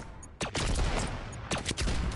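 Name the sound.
gunfire from a video game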